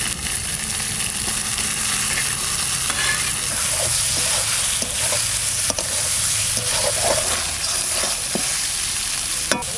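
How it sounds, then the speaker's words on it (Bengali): Marinated pomfret pieces going into spice paste frying in a pan, a loud continuous sizzle with scattered stirring scrapes and clicks throughout, close up and without speech. "মশলা কষানো হয়ে গেছে এবারে যে মাখানো মাছটা দিয়ে দেবো"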